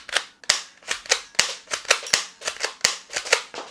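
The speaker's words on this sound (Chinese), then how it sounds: "但是此时我们再次拉栓，就会抛出第一颗弹壳" Toy shell-ejecting pistol with a detachable magazine, its bolt racked repeatedly: a steady run of about a dozen sharp, close plastic clacks and snaps, each with a short rattling tail, heard alone without talk.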